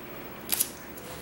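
Two quick crisp snips of scissors cutting duct tape, followed a moment later by another sharp cutting snap, close and fairly quiet.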